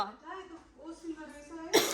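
Someone talks quietly, then gives a single sharp cough near the end.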